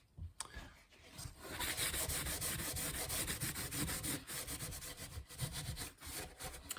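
Finish being rubbed by hand into the wooden body of a restored box guitar, producing a steady, close, rhythmic scrubbing rasp of cloth on wood with brief pauses between strokes.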